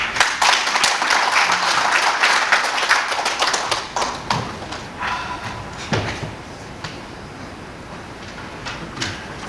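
Audience applause at a book launch celebration fills the room, dense clapping loud at first, then thinning into scattered claps and a few sharp taps as it fades.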